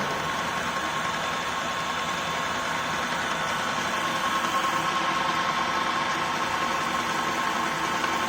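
A gear pump runs steadily in a lab practical on shaft speed and pressure, giving a constant mechanical hum and whir with a faint tone, even and continuous throughout with no talk.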